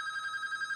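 A telephone rings for a radio call-in, a bright electronic warble pulsing rapidly and evenly at moderate loudness.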